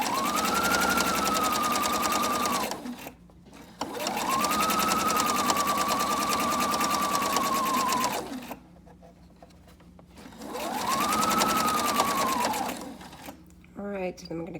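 A sewing machine runs in three long bursts of steady, rapid stitching, with short pauses between them while a nearby voice speaks, stitching a DIY Bible cover.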